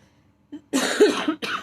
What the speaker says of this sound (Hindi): ये वेदर चेंजेस की खांसी है.